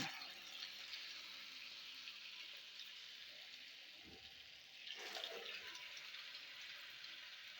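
Pakoras slide into hot oil and fry with a steady, fairly soft hiss and sizzle, which swells briefly near the end as more batter hits the oil.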